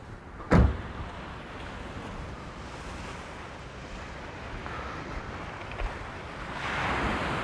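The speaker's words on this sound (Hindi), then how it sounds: "अभी मैं बिल्कुल आ गया हूँ यहाँ पे समंदर के किनारे में, यहाँ पे एक बीच है छोटा सा" Sea waves on a small quiet beach in Hakodate, Japan, a steady broadband wash of surf with one sharp knock near the start and a swelling surge toward the end, heard alone with no voices.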